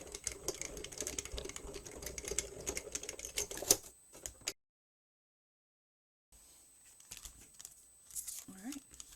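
A die-cutting machine cranks a 2D embossing folder with a shim through for card-making, giving dense crackling, clicking mechanical rattles. The rattling breaks off into silence, then resumes more quietly.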